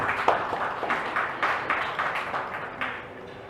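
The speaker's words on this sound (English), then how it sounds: "Please give a big round of applause." Award ceremony audience at a leadership conclave in a hotel giving a round of applause, dense clapping with a few sharper claps standing out, loud and continuous, tapering slightly toward the end.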